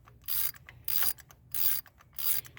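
A 3/8-inch ratchet on a long extension and spark plug socket clicks as it loosens a spark plug on a 1995 Mazda Miata MX-5, four separate bursts of quick ratcheting clicks, close and clear, with short pauses between.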